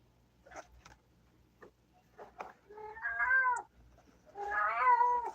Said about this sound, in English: Quiet, little cat.